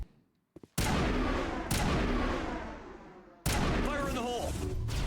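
Grenade blasts in Mass Effect: after a short quiet lead-in with small clicks, loud booming detonations hit in succession, each decaying into rumble, with a voice speaking briefly near the end.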